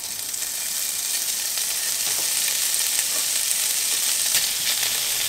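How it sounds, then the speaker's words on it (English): Chopped bacon slices frying in a pan, giving a steady loud hiss and crackle that continues unbroken throughout, with no voices. "we're just going to start frying up some bacon"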